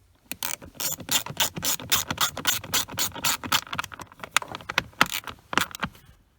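A ratchet tightening a screw on a GM truck blower motor resistor (1999–2007 truck): rapid, close clicking of the pawl in steady bursts of strokes, with brief pauses between runs.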